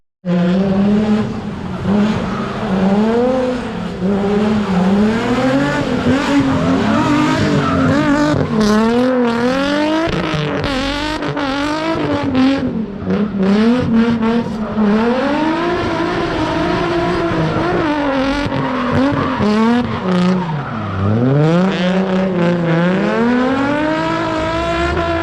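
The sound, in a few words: drift cars in tandem, tires squealing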